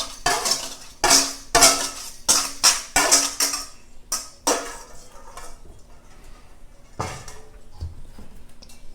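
A utensil clinks and scrapes briskly against a bowl as wet ingredients for zucchini bread are combined, a quick run of close, rhythmic taps that slows and fades into a few sparse knocks.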